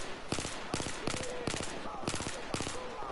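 Bursts of gunfire from a weapon in a video game, about six rapid volleys of sharp shots spaced roughly half a second apart, fairly close and loud, with a faint voice underneath.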